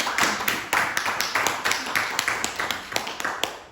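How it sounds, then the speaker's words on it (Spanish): A church congregation claps together during a Sunday service, a steady rhythmic clapping of about four beats per second, sustained and moderately loud. "Démosle un aplauso al Señor."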